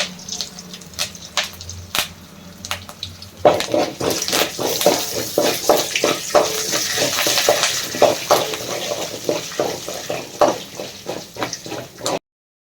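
Mustard seeds, chana dal and curry leaves hit hot oil for a bitter gourd palya, bursting into a loud, steady crackling sizzle after a quieter start, with sharp pops scattered throughout and no talk.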